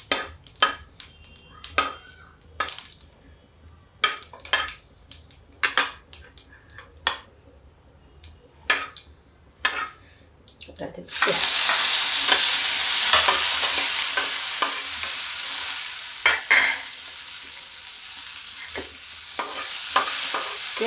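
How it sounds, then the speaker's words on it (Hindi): Mustard seeds and onion sizzle and crackle in a hot pan for Indian bread pakora, starting as sparse sharp pops and scraping stirs, then bursting into a loud, steady frying hiss about halfway through, with stirring strokes continuing over it. "राई तड़क जाए"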